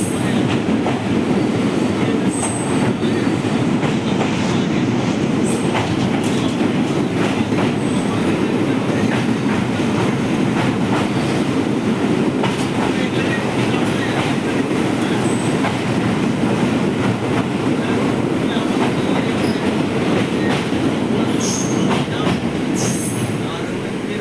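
A train around Siliguri Junction rumbles loudly and continuously, with rhythmic wheel clatter and intermittent high squeals from the rails throughout.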